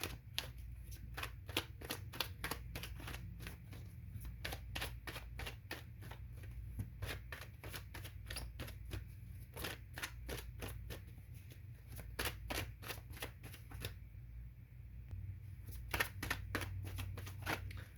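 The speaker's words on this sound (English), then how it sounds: "I'm going to shuffle here and see if I get any other cards." Tarot cards are shuffled repeatedly, a long run of quick, crisp riffling flicks in a steady rhythm, close and fairly quiet, with no talking.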